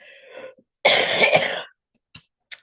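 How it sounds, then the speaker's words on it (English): A single harsh cough bursts out loud and close, lasting under a second, with a faint voice before it and two short clicks after. "I'm trying not to cough, but it's not working."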